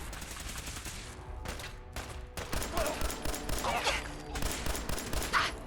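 Rapid bursts of automatic gunfire from a Protectotron robot in Fallout 4, loud and continuous with dense overlapping shots and brief lulls.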